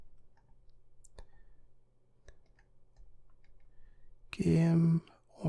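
Mouse clicks during play of the 1992 DOS game Darklands, a handful of sharp single clicks spaced apart over a low hum, followed by a burst of game sound and talking near the end.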